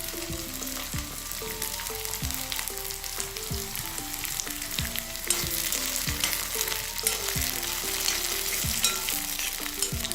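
Shallots and curry leaves sizzle in a pan, with a steady crackling fry and regular, rhythmic scraping strokes as they are stirred.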